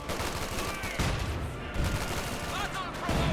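Grenade blasts and rapid gunfire from a Company of Heroes 2 battle, with troops caught in a trench, form a dense, continuous barrage with heavy bursts throughout, loud and close.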